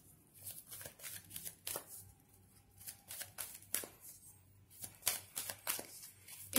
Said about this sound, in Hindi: But I like shuffling on screen.